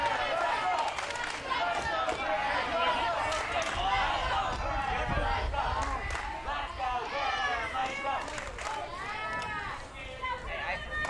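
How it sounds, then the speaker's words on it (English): Spectators at a 2021 Little League Baseball West Regional semifinal between Torrance, CA and Petaluma, CA swell into a steady, dense roar of cheering and chatter, with a voice talking over the noise throughout. "Crowd getting a little louder."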